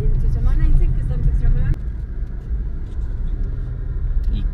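Heavy road traffic with trucks rumbles steadily on a busy street in Santo Toribio, a low continuous drone of engines running beneath a person talking nearby.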